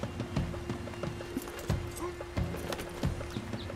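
Horse hooves from Red Dead Redemption 2, a steady clip-clop of a galloping horse in regular rhythm at moderate volume over a faint background hum.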